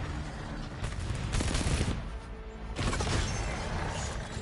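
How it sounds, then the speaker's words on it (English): Sentry tower cannon firing in the video game Arknights: Endfield, a single slow-firing cannon: loud booming blasts with crashing impacts over dense continuous game noise, two big surges a second or so apart. "It takes a while to fire because it's just like a single cannon."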